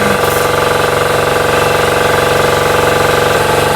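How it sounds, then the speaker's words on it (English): An air compressor runs steadily and loudly in a garage during dually truck tire work, a constant mechanical drone with a rhythmic pumping pulse and no talk over it. "Sorry about the air compressor."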